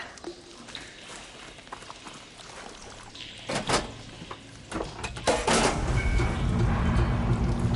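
Water flow switching in the video game Horizon Forbidden West, with thuds and clanks leading into a louder rushing, steady stream of water that builds toward the end.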